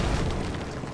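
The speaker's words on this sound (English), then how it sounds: "Okay, let's explode this" An explosion in the Harry Potter and the Goblet of Fire PC game, a single loud, low rumbling blast that decays over about a second.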